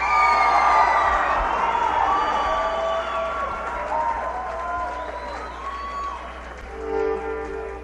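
A concert crowd at the Cleveland Agora applauds, cheers and whoops for a band during the 1983 WMMS Coffeebreak Concert. The loud, dense clapping and shouting fades slowly over several seconds, then swells briefly near the end.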